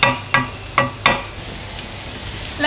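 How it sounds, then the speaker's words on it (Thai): Mini pizza ingredients stir-fried in a pan: four sharp scraping clatters of a spatula against the pan at a steady pace, then a quieter stretch, close and alone without talk. "ผัดโลด"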